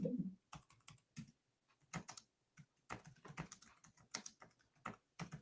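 Keys clatter on a computer keyboard in short irregular bursts of typing with brief pauses, fairly close and moderately loud, with no voices.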